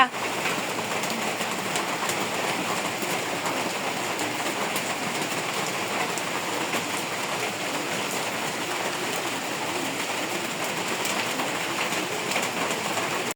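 Steady rain falling outdoors, a dense even hiss that stays constant throughout without pauses, with a faint voice speaking at moments.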